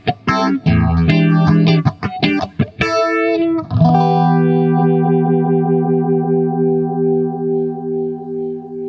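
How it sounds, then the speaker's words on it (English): Electric guitar run through the phaser setting of a Boss GT-3 multi-effects unit, a pulsing univibe-like sweep: quick distorted licks first, then a sustained chord that throbs and swirls as it rings out, loud and alone. "This is it's under the phaser heading of the multi effects unit, but I can control the pulse of the phase,"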